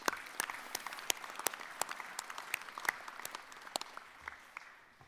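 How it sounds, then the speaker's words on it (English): Graduation audience applauding and cheering, a steady patter of claps with sharp individual hand strikes standing out, moderately distant and fairly quiet throughout. "Let's give them the biggest cheer."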